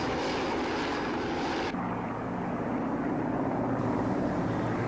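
A steady, loud rotor and engine drone of a helicopter in flight over a wildfire operation, with a shift in tone partway through and no voices.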